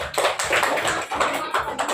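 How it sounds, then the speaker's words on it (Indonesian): A classroom of students claps for a group, with dense, rapid clapping close by and steady from start to finish. "Tepuk tangan untuk kelompok 3"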